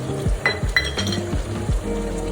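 Ginger-garlic paste hits hot oil for Kolhapuri chicken curry, a sizzling fry punctuated by metallic clinks and scrapes of a spoon stirring in the pan.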